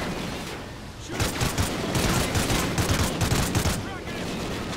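Rapid gunfire from the Call of Duty: Ghosts video game crackles in a dense, sustained fusillade of overlapping shots, loud and continuous, easing slightly toward the end.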